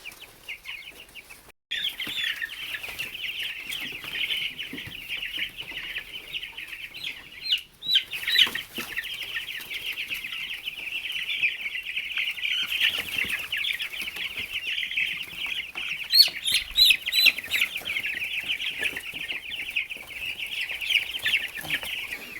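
About 30 chicks and quail in a brooder chirp and peep continuously in a dense, high-pitched chorus, with occasional louder clucks and a brief flutter of wings nearby.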